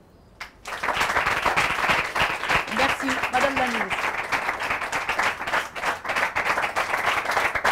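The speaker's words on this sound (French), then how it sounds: "j'invite les enfants à applaudir" Children in a studio audience applauding a minister's arrival at a World Children's Day event, sustained dense clapping that starts abruptly and continues steadily, with a voice briefly speaking over it.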